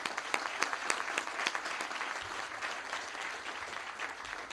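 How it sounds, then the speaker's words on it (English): A crowd claps steadily, a brisk burst of applause with dense overlapping claps, moderately distant and unbroken throughout. "let's give her a big round of applause"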